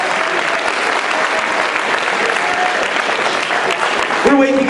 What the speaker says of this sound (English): Let's give these guys a great hand.